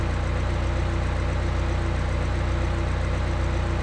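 A car engine idles smoothly and evenly in the Electude simulator after a lean-running misfire has been fixed, a steady low rhythmic hum with no stumbles.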